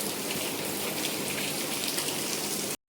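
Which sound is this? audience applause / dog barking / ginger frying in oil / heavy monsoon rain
heavy monsoon rain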